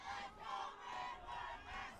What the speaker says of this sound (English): And Midwood's got the crowd fired up.